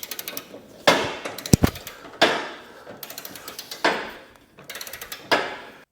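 A wrench tightens a spindle on a Husqvarna riding mower deck with a rapid ratcheting click. The clicks come in bursts of several, each set off by a sharp metallic clank, and the sound is close and alone.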